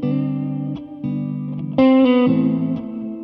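Sustained electric guitar chords through a Hall of Fame 2 X4 reverb pedal ring out with a lush reverb wash, each change blooming and trailing into a spacious, shimmering tail.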